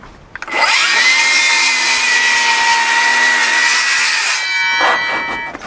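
A handsaw cuts through a wooden counter-batten on a roof structure, leaving the last few millimetres so the membrane beneath is not cut; a loud, steady, continuous rasping saw stroke sound lasting several seconds, close by, with no talking.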